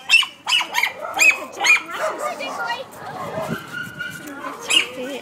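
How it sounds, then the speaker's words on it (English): A small dog yips and barks in quick bursts up close, then whimpers, with a voice talking and faint birds in the background. "Little dog in here."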